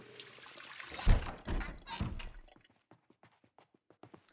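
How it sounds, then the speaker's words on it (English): Drinking from a tap in the zombie survival game Project Zomboid, a few wet glugging gulps and pours for two seconds, then soft scattered drips in near silence. "Have a drink from the tap."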